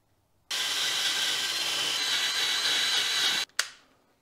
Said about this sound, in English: we're going to use the wire wheel and the lots of brake cleaner